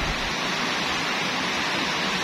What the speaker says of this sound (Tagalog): so maririnig yung background ng ulan.